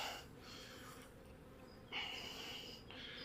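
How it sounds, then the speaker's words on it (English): Honeybees hum around an opened hive during a first inspection with sealed queen cells on the frames, a faint, steady drone of many bees close by, swelling slightly now and then. "there's a lot of bees here"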